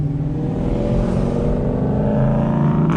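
A 2011-2014 Mustang with an automatic transmission accelerates hard in first gear. The engine gives a loud, steady, rising drone that fills the whole stretch, heard from inside the car with no talking.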